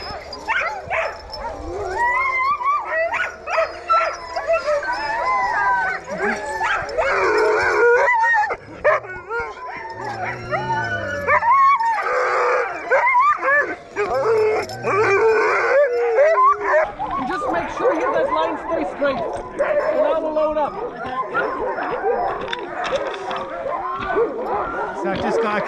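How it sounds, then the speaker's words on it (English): Sled dogs in Svalbard howl, yelp, whine and bark together in a loud, continuous chorus, close by, with people talking over the din. "So I've just got to keep hold of the dogs, make sure that they don't go mental."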